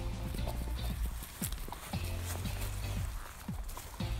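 Horse hooves clip-clopping on a summer outing, a steady run of soft hoof beats spaced roughly half a second apart over continuous low background rumble, with faint voices now and then.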